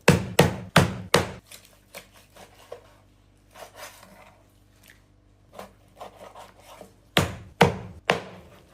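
Heavy chopping of meat and bones for kacchi biryani, with sharp loud cleaver strikes in quick clusters at the start and end and quieter handling and rubbing sounds between them.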